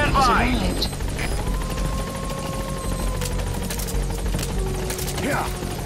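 A support helicopter arrives at the landing zone in Metal Gear Solid 5: The Phantom Pain, rotor chopping and engine drone steady and fairly loud throughout, with a radio voice speaking briefly at the start and a tonal hum sliding underneath.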